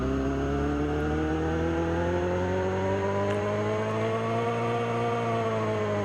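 A Toyota car engine in a Roblox game runs steadily on a dyno, a loud, continuous harmonic drone with its pitch slowly rising across the whole stretch, no voices present.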